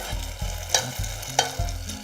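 Food sizzles in a saucepan while something is stirred, with a few sharp scraping clicks of a utensil against the pan.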